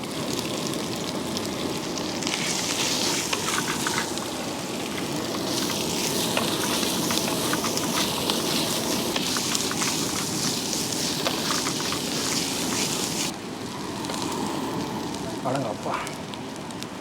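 Ginger and garlic frying in a pan for a Tamil country chicken roast, a steady loud sizzle and crackle running throughout with occasional stirring scrapes.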